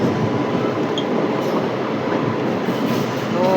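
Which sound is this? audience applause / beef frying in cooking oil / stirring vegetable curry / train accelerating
train accelerating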